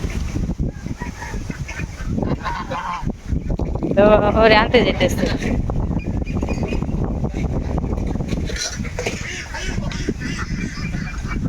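Domestic geese honking outdoors on a windy, stormy day near a river, a few calls rising over steady wind rumble while a person talks throughout.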